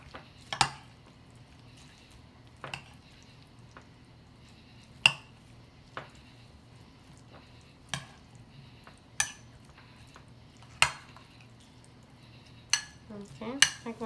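A spoon stirs Russian salad with mayonnaise in a bowl, giving sparse sharp clinks and taps against the bowl at irregular intervals over a quiet background, with a soft squelchy mix near the end.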